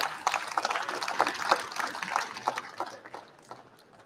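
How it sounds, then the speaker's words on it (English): Audience applause for a guest speaker at a live catfishing convention talk in Kansas City, a dense burst of many hands clapping that swells, holds for a few seconds, then thins and fades toward the end. "So let's give him a round of applause."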